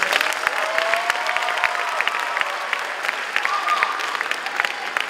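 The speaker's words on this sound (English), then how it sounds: "A round of applause for parents and family." Graduation audience at a high school commencement applauding steadily, dense continuous clapping with a few whistles rising above the crowd.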